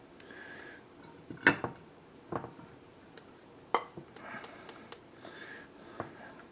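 A baking dish is handled in a home kitchen while a chicken, broccoli and rice bake is put together, giving scattered clinks and knocks of dishware, two sharper clatters standing out among quieter taps, with no voices.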